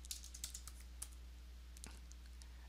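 Light clicking keystrokes on a computer keyboard while entering a spreadsheet formula, a few quick irregular taps close by over a steady low hum, with no voices.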